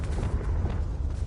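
Hogwarts Legacy Confringo explosive spell going off: a dense, loud blast of roaring, crackling noise heavy in the low end, sustained for about a second without pause.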